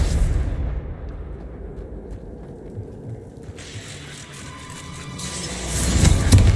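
A Confringo fire spell in Hogwarts Legacy video game booms out as a broad, roaring explosion, rumbling and swelling louder toward the end, with no talk.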